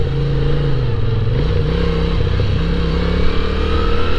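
A Moto Guzzi V7 motorcycle with standard exhaust pipes rumbles steadily while riding, a loud, close, low engine drone that rises and falls slightly in pitch under wind noise.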